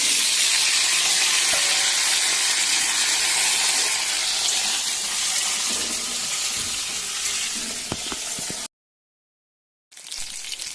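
Chopped vegetables sizzle loudly in hot oil with cumin seeds in a steady, close, hissing fry, then a sudden gap of silence before the frying resumes.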